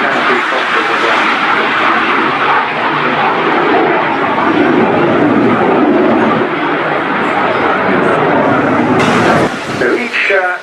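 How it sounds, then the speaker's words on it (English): An early-design jet aircraft roars past along the display line at the Torbay Airshow, a loud broadband jet rush that holds steady then fades, with a commentator talking over it. "lines of what was an early design of jet aircraft, and going relatively sedately down the fly line here"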